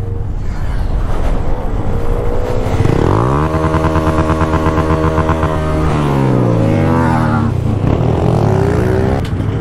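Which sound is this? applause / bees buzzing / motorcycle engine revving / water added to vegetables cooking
motorcycle engine revving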